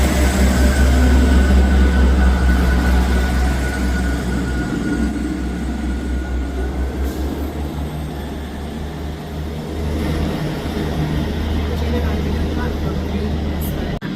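A delayed Avanti West Coast train from London Euston pulls into Edinburgh Haymarket station, a loud continuous low rumble and rolling rail noise that holds steady throughout, with station voices and announcements over it.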